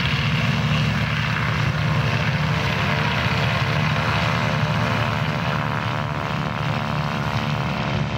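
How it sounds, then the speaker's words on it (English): A Boeing Stearman PT-17 biplane's radial engine runs with a steady, loud, droning propeller roar, close by and unbroken throughout. "That is the ideal engine for these Stearmans"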